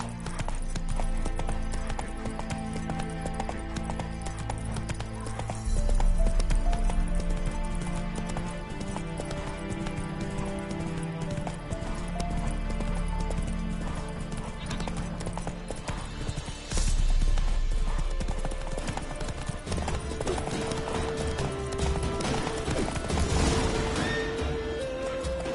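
In The Witcher video game, the horse Roach gallops with a rapid, steady clip-clop of hooves, close and continuous, over layered game ambience, with an occasional whinny or clatter.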